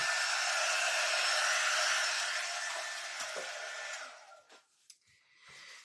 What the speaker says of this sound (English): No, Christy, I don't need a hotter dryer.